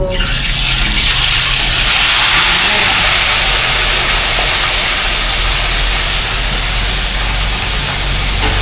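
Steady, loud broadband hiss of tilapia sizzling in hot oil, continuous throughout with no pauses and no talking.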